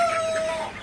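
Chickens cluck in a hot-weather poultry setting, a steady close clucking with a thin tonal call running through it, no talk over it.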